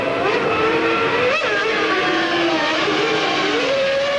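A Formula 1 car at the 1999 Canadian Grand Prix pulls out of the pits and accelerates back onto the track, its high engine whine rising and shifting up through gears, loud and continuous over a steady crowd roar.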